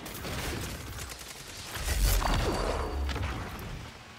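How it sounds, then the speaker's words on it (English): A fusion rifle discharging in a video game shooter, a swelling charged blast that peaks midway and rolls off, with faint background clatter and no talk. "Fusion rifle."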